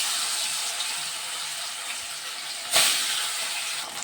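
Katla fish pieces fry in a mix of hot ghee and oil, giving a steady close hiss of sizzling that flares briefly louder near the end, with no voices.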